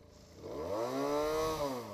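A Benelli 300 motorcycle engine revs briefly, its tone climbing then easing back down in one smooth sweep, heard fairly quietly and alone.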